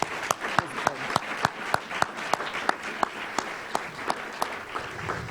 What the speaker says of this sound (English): Please join me in giving Father Richard Rohr one more round of applause.